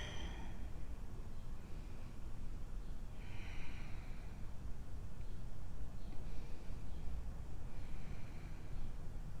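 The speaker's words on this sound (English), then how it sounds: "One more deep round of breath." Slow, deep breaths during a core and restore yoga session, audible as several soft, airy inhales and exhales spaced a few seconds apart over steady background hiss.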